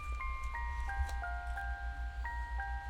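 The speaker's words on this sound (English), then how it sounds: "The last sound I added was this music box." A faint, tinkly music box melody in a Detroit-style beat, with bright descending chime notes plucked at an even pace over a low, thumping bass loop.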